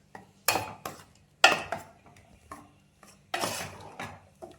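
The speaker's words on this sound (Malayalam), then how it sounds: "പിന്നെ നാളികേരമൊക്കെ ഇതിലേക്ക് നന്നായി യോജിപ്പിക്കുക." A spoon scrapes and knocks around a pot as grated coconut is mixed into a ripe banana pulissery curry, in several separate bursts with quiet gaps between them, close and moderately loud with no talking.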